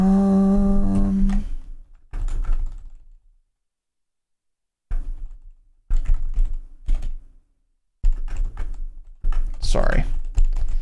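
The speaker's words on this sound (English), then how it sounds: "Going crazy on that keyboard, huh?" Rapid bursts of typing on a computer keyboard, clattering in quick flurries separated by brief pauses, close and fairly loud.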